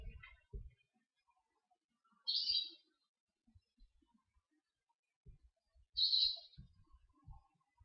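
Two short, bright bird chirps sound a few seconds apart against near silence, with faint low knocks and thumps in between.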